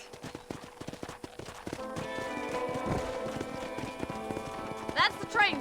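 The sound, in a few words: horse hooves clip-clopping, from a video game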